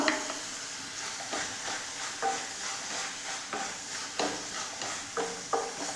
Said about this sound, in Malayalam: ഇതെല്ലാം നമ്മൾക്ക് നന്നായി ഒന്ന് ഇളക്കി കൊടുക്കാം